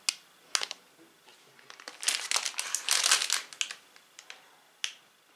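A plastic wrapper on a Fix Price vanilla soufflé dessert crinkles close up in sharp, scattered bursts, building to a dense rustling in the middle and then tapering to a few isolated crackles.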